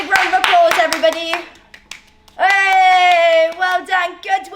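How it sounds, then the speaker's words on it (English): Children in a virtual School Sport Week session clap for themselves: a brief burst of quick claps at the start, overlapping with an adult voice speaking throughout. "Get one hand, get the other hand, and give yourselves a big round of applause, everybody."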